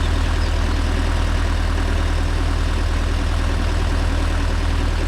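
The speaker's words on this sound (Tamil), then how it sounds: "வண்டி கத்தணும்." A Mahindra Yuvo Tech Plus 585 DI 4WD tractor pulling a 9-tine cultivator, its diesel engine roaring in a loud, steady, low drone, close and unbroken throughout.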